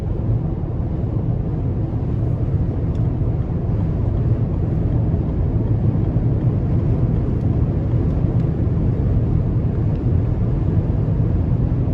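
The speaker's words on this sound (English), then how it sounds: "that's the car basically driving itself up the interstate" A 2021 Lincoln Corsair Reserve small SUV cruises on the interstate on big wheels, a steady, loud road and wind rumble holding constant throughout with no voices.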